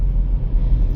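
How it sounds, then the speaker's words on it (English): Skoda Slavia 1.0 turbo manual car accelerating at full throttle, heard from inside as a steady, loud low engine rumble with road noise, continuous and without speech. "I will be giving a full throttle after crossing this Baleno."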